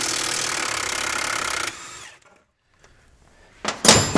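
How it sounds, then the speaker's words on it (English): A power tool whirs loudly for under two seconds on the front strut mounting bolts of a Range Rover L322, then spins down. After a brief quiet, sharp metallic clanks of a socket and spanner follow close by. "Now I'm going to remove the two mounting bolts that mount the strut to the stub axle."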